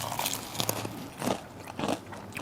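Bites crunch close and loud into a hard, crispy breaded coating of KFC-style fried chicken, several crunches in a row with no talking.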